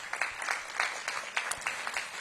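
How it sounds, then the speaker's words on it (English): At a mayoral press event launching a city career coaching program, a small group claps faintly and sparsely, with individual claps standing out in a loose, uneven rhythm for about two seconds. "let's give them a big round of applause"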